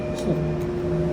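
A short, steady electric whine from a train's traction motor in Train Sim World, on a German mountain line, with tones gliding over a low mechanical hum.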